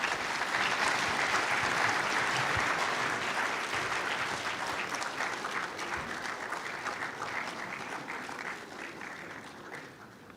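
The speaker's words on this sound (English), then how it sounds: "A round of applause" Sustained audience applause at a UN Global Supply Chain Forum in a large hall, a dense steady wash of clapping that stays loud and then slowly tapers toward the end.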